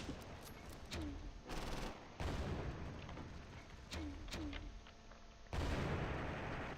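Gunfire and explosions from the World War II strategy game Close Combat, with bursts of machine-gun and rifle fusillades, distant booms and whistling shells under a loud, dense battle din.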